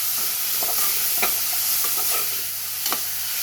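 Ingredients for goat leg soup sautéing in a pan over low flame, a continuous close sizzle broken by a few short stirring scrapes, with no voices.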